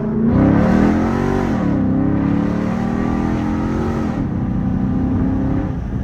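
A modified Dodge SRT8 accelerates hard with a loud, close engine roar, revs climbing, dipping at a gear change, then climbing again through a second long pull.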